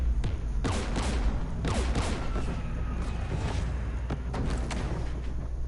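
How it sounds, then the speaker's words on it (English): Anti-aircraft guns in Mass Effect 3 pound away in a dense, rolling barrage of booming shots layered with rumble, loud and continuous with uneven bursts throughout. "We're taking fire."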